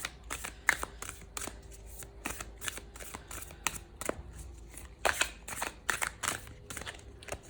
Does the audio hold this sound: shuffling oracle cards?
yes